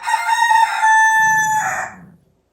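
A single rooster crows nearby, one loud drawn-out cock-a-doodle-doo with a bright tonal call that holds then fades out, followed by quiet.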